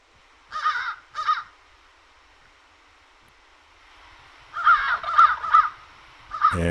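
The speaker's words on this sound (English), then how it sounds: "Now we got some crows," Crows give harsh caws in short bursts at a feeder, two early calls, then a quick series of four, with a fifth at the end, fairly clear and nearby.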